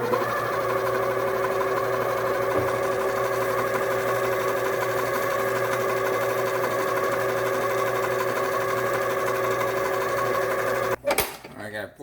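A kitchen mixer whirs steadily and close as milk is blended into a white chocolate bread pudding mixture, a constant motor hum that cuts off near the end with a clatter.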